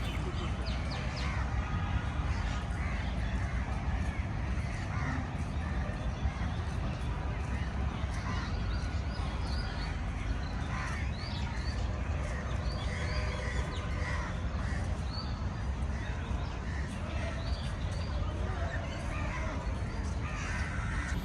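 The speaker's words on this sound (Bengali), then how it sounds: "বসন্তে পাখিদের কলরব অনেক বেড়ে গেছে।" Crows caw repeatedly among spring birdsong, a busy chorus of harsh calls and chirps over a steady outdoor hum, moderately near and continuous throughout.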